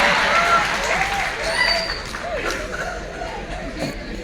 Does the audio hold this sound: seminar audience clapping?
yes